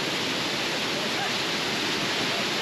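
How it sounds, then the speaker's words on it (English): A shallow waterfall in the Grenadines gives a steady, broad rushing hiss of falling water, even and continuous, at a moderate distance. "but it's a great waterfall."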